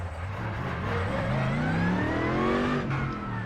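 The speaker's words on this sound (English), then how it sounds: "Such a nice sounding car." A Mercedes-AMG GT3 race car engine in a racing video game, at Spa, revs and climbs through gears, tones rising smoothly in pitch, loud and close with no talking.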